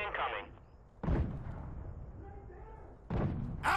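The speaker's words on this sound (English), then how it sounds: "Explosive artillery incoming." Explosive artillery strikes land in the first-person shooter Insurgency Sandstorm, with heavy booming impacts around 1 second and 3.1 seconds and loud rumbling decay between them, while voices talk over the barrage.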